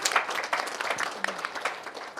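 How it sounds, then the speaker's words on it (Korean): An audience at a policy forum on social welfare facility evaluation claps in a brief, uneven round, with scattered hand claps at moderate volume. "우리 모두를 위해서 큰 박수 한번 부탁드립니다"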